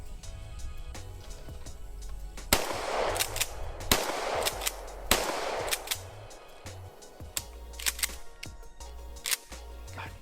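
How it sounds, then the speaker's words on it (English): Three sharp, loud blasts from a 410-bore shotgun firing buckshot at a target about 10 yards away, spaced roughly a second apart, each one followed by a short ringing decay. "Let's see how this buckshot can do."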